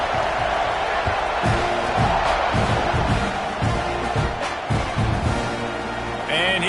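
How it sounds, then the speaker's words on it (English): Crowd at a college football stadium, Army against Texas A&M, buzzing after a touchdown on an 80-yard run, a loud, constant roar with scattered shouts and thumps and a commentator talking over it. "this crowd is buzzing after that last score"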